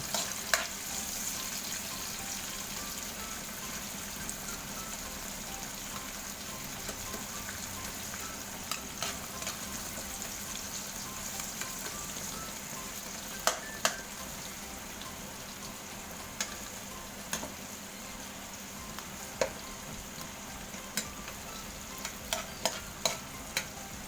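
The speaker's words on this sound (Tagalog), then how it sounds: "pwede nang ilagay ang onion. Halu-haluin lang natin" Onion sautés quietly in a pan, a soft continuous sizzle with faint scattered clicks and scrapes of stirring, heard at some distance at low volume.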